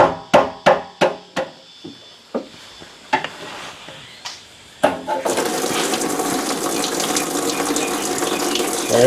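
Petrol gushes out of a disconnected fuel line on a Triumph TR7. A few sharp metallic knocks come first, then a sudden sustained splashing rush of liquid pours continuously to the end.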